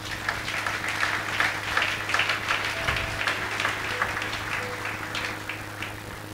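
A church congregation at a French-language seminar claps and applauds together in a dense, steady wash of clapping with a low hum beneath it, and no voices stand out.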